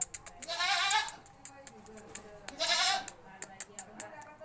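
A young goat kid bleats twice near its mother on a farm, close and clear, amid a steady series of sharp clicking ticks.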